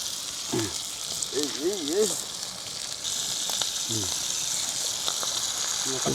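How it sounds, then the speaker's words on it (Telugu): Prawns frying in a pan for a gongura prawn dish cooked outdoors in a forest give a steady, bright sizzle, while people talk briefly nearby. "చాలా వేగిన తర్వాత రొయ్యలు వేస్తున్నామని చెప్పి మనం"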